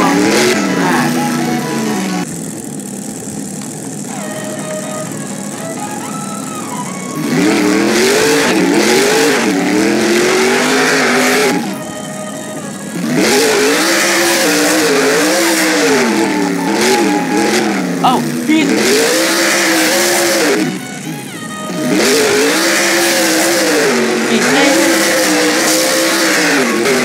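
A monster truck engine roars and revs hard on a wheelie run in the Rigs of Rods video game. Loud, wavering engine pitch rises and falls in repeated surges, with brief dips between runs.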